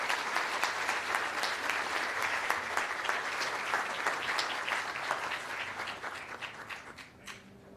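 Audience at a school merit ceremony gives sustained, dense applause for students, many hands clapping evenly before tapering off toward the end.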